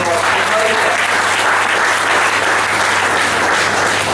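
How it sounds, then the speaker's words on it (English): Sustained applause from a conference audience at an HR event, a dense, steady wash of clapping filling the room throughout, with a low hum underneath. "they also need a special applaud from my side. And please join me."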